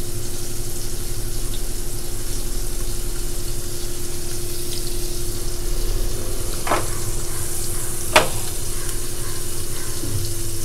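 Prawns frying in hot oil with garlic and curry leaves give a steady, close sizzle throughout, with two brief sharper crackles or clinks near the end and no talking.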